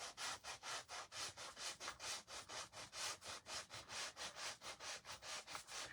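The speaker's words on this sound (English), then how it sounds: "So I'm going to sand right along the line." Sandpaper is worked by hand along a marked line on a wooden spindle for a craft piece, giving quiet, regular back-and-forth rasping strokes, roughly four per second, with no talk.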